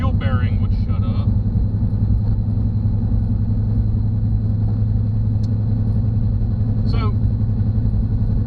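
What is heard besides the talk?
2006 GMC Envoy driving with a noisy wheel bearing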